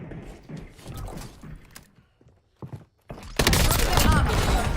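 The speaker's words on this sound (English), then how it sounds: "Inserting armor." Armor plate being inserted in the video game Warzone, mechanical clicks and creaks under gameplay noise, followed by a loud dense burst of sustained gunfire and action sound in the last second and a half.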